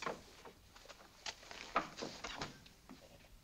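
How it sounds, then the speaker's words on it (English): A sticking door pulled open indoors, heard as faint, scattered knocks, rattles and scrapes over about three seconds in a quiet room. "Oh, that door sticks."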